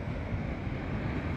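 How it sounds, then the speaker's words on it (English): Ocean surf roars in a dense, continuous wash near the shore at night, loud and steady, with heavy wind buffeting the microphone. "I'm at the ocean right now."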